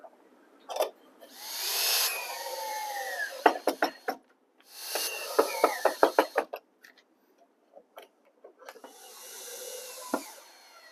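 A power driver whirs in short bursts as screws go into recycled lumber braces, each whine followed by clicks and knocks, with pauses between drives and no voices.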